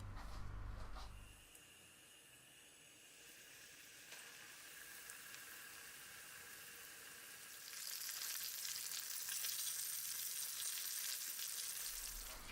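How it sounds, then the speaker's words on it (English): Steady oil sizzling and crackling of chicken schnitzel frying in a fryer, a continuous bubbling hiss that grows louder and brighter partway through, with no talking. "So let's fry up our schnitzel."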